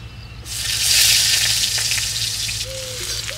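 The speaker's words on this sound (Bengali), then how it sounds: "এবার দিয়ে দিচ্ছি কুচিয়ে নেওয়া পেঁয়াজ।" Chopped onions drop into hot oil already holding cumin seeds and bay leaf, setting off a sudden loud sizzle that settles into a steady crackling hiss, heard up close without talk.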